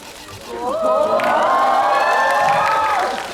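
A cinema audience at a film live-talk event cheers and shouts, a crowd of voices rising into a sustained, loud whooping roar that holds for a few seconds, with little distinct clapping.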